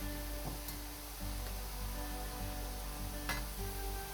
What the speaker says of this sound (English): Fry them on medium heat until golden brown.